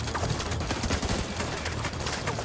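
Rapid automatic gunfire from The Division 2, a shooter video game, fills the moment as a dense, continuous burst of loud shots with no pauses.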